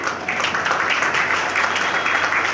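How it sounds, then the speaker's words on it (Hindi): Brief, steady applause from a gathered audience at a ceremony, a fairly close and even wash of clapping lasting a couple of seconds. "मैं चाहूँगा सबका तालियां बजा के अपना अभिनंदन करें।"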